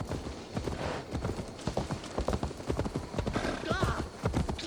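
Horse hooves in Assassin's Creed Valhalla clip-clop in a steady walking rhythm, fairly close, with faint background voices and ambience beneath the footfalls.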